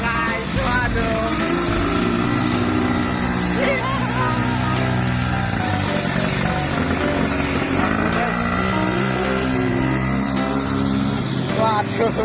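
A motorcycle rides along with its engine droning and shifting in pitch, heard close and fairly loud beneath people talking and calling out throughout.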